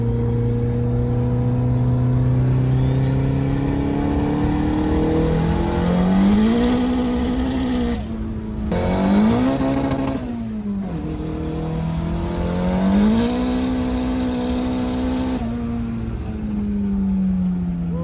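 A 500 hp turbocharged D16 Honda Civic sedan accelerates hard with its tires spinning, its engine loud and close, climbing steadily in pitch through several gear changes, each marked by a brief dip before it rises again.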